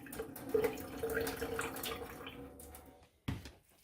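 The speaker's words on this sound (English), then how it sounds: "So I drain the water" Hot water from cooked ramen noodles pours out into a sink, a soft continuous splashing gush that fades near the end before a brief clunk.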